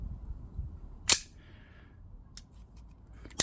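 An Umarex Glock 19 Gen5 MOS BB pistol firing its last BB gives a sharp, dry snap, followed by two fainter clicks of the slide locking and handling in a quiet room.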